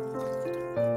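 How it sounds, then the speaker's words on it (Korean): Water pours steadily into a cooking pot holding chicken pieces for soy-braised chicken, a close, continuous splashing fill whose tone shifts as the level rises, heard alone without talk. "냄비에 닭과 물을 넣고"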